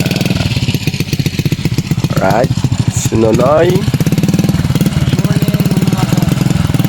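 A new motorcycle's engine runs steadily close by with a throbbing, even hum while people talk over it throughout.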